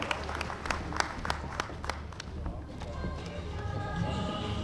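An audience at a chamber of commerce oath-taking ceremony in Jhang gives a short round of clapping, sharp distinct claps at first that blur into a softer, scattered patter as it fades.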